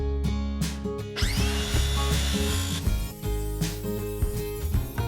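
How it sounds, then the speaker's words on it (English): A power tool cuts a long wooden strip for the back wall of an outdoor workshop shed. A loud, steady motor hum runs throughout, and a sharper whining cut rises after about a second, then eases off and continues. "now I'm going to be cutting the long strip to fill in the very back."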